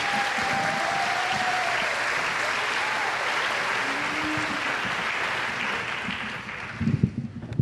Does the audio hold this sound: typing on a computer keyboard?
no